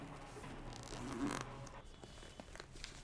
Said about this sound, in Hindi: एक मेटेलिक इसके ऊपर ज़िप लगी है